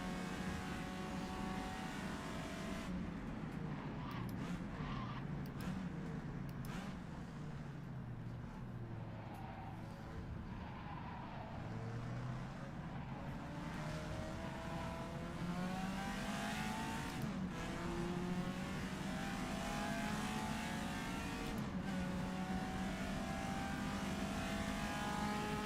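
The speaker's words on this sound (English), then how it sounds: "No, those GT40s are very nice, but at low revs they sound awful." Ford GT40 race cars run at low revs with a steady, rough engine drone that continues throughout, with occasional revving swells and a hint of tyre noise.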